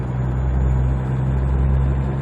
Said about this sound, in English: Oh man, the Jake brake sounds really beefy on this truck.